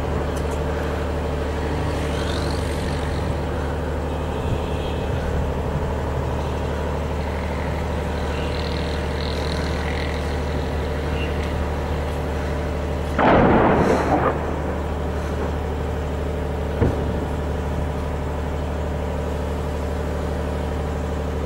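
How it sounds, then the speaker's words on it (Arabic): Heavy shelling over the city of Maarat al-Numan in Idlib, a steady low rumble of bombardment with one loud, sharp blast near the middle and a fainter thud later, no voices. "قصف عنيف على مدينة معرض النعمان"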